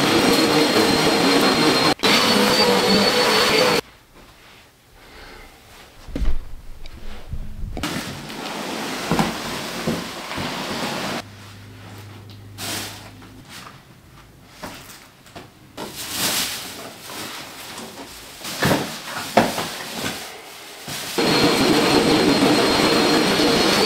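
A vacuum cleaner runs in an empty room as a loud, roaring whine with steady hiss, cutting off for stretches filled with quieter thumps and handling noise before starting up again near the end.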